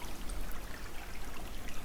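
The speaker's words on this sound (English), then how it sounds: "Running water." A small woodland stream runs nearby, giving a steady, even babble and trickle of water that fills the whole stretch with no voices over it.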